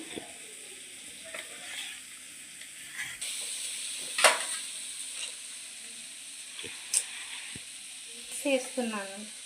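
Halved boiled eggs fry and get stirred in a hot pan, giving a steady close sizzle with scraping spatula strokes and a few sharper clinks against the metal.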